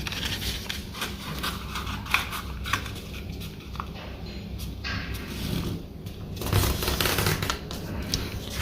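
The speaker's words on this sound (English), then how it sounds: "Open it up and then fold about 2 centimeters from the top edge." Sheet of paper being folded for a paper airplane: soft crinkles, scrapes and creasing rustles at close range, with a few sharper crackles, continuing in irregular bursts.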